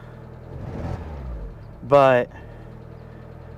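A Mazda Miata engine with ignition trouble runs rough, idling as a low, steady rumble beneath a man's brief speech.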